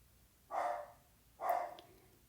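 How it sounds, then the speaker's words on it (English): A dog gives two separate, sharp barks about a second apart. They are fairly faint and sound nearby, over a quiet room with no talk. "Ignore my mouthy dog, please."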